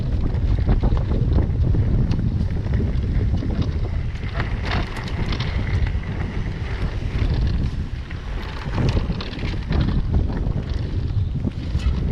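Strong wind buffets the microphone during an electric mountain bike ride, a continuous roaring gust, low and rumbling, with brief lulls and surges and no voices.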